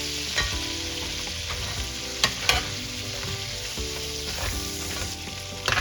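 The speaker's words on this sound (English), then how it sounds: "We add the crabs. Then we try to mix it as much as we can." Crabs frying in hot garlic butter while being stirred: steady, loud sizzling with a few sharp clacks and scrapes from the mixing.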